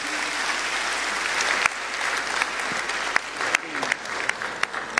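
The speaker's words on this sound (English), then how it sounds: "Let's give him another round of applause." An audience at Ghana's 2024 state of education address gives a steady round of applause that thins toward the end into scattered, distinct individual claps.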